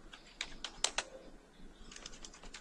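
Computer keyboard typing in quick, light, irregular keystrokes, with a short burst of sharper clicks near the start and softer taps toward the end, fairly close and quiet with no talk.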